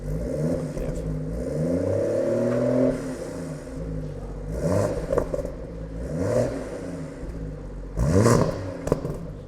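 BMW M140i hatchback with a stage 2 map, engine revs rising and falling with crackles and pops from the exhaust on the overrun, close and fairly loud.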